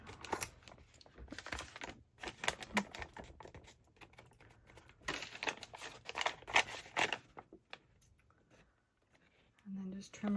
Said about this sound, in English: And then just trim around your pages.